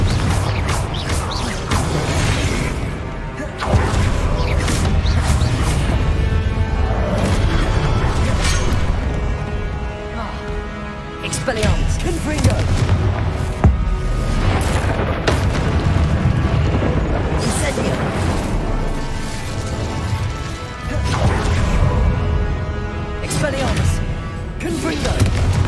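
Confringo fire spell explosions in Hogwarts Legacy, a dense series of loud booms and crashing blasts over about twenty-five seconds of game combat, with voices casting spells in between.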